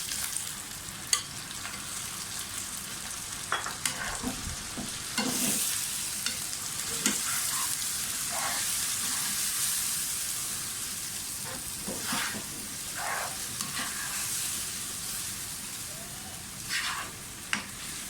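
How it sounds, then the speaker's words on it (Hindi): Marinated boneless chicken fries in a pan, a constant hissing sizzle with occasional sharp bursts and spoon strokes as it is stirred, close-up and steady with no speech. "अब मैरिनेटेड चिकन डाल दें।"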